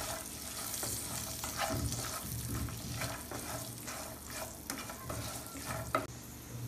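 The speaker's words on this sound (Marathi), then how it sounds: "एक 7-8 काजू आणि 7-8 मनुका टाकत आहोत आणि हे आपल्याला थोडे परतवून घ्यायचे आहेत।" Cashews and raisins stir-fried in a pan for a Maharashtrian panchamrut dish, a steady close sizzle with repeated spoon scraping and stirring, no voices.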